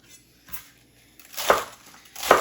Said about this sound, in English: let's just start by quickly chopping up our romaine